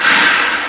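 A small blender pulses rolled oats in one short, loud burst of steady whirring motor noise.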